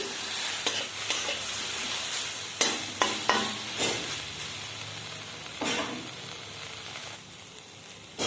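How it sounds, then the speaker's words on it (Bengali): Fennel, cumin, coriander paste, turmeric and chili powder fry in oil with a bright, continuous sizzle. Repeated scraping strokes of a spoon stirring the spices sound close and clear. "সমস্ত মশলা আমি হালকা করে ভেজে নিচ্ছি।"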